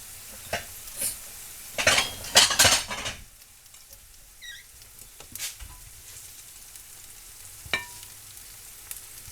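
Softened onions are scooped out of a pan while making Salisbury steak, giving a burst of scraping and clinking utensil strokes. A few quieter taps and a faint background sizzle follow, close by.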